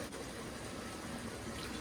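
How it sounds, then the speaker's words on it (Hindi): Two cups of water poured into a pan of fried potatoes, a short continuous gushing rush of liquid, close and fairly quiet. "2 कप पानी मैंने डाल दिया।"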